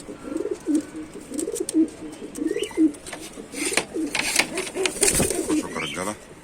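Pigeons in a loft coo in a steady run of low, rolling calls close by, while people talk and handle birds nearby.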